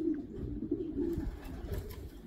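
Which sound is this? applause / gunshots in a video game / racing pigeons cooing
racing pigeons cooing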